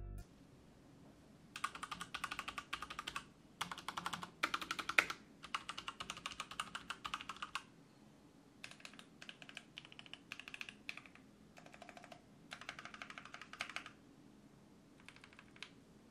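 Typing on a Cooler Master Quickfire Rapid mechanical keyboard with Cherry MX Red switches: quick bursts of close keystrokes separated by brief pauses, with no voices.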